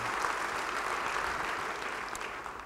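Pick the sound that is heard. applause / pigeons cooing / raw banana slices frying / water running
applause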